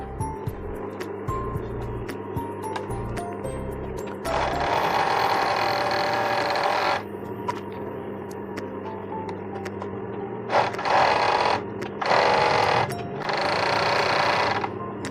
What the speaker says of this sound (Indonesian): Sekarang kita akan ngobras bagian kanan dan kiri rok.